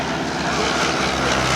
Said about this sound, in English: All aircraft airborne, all six of them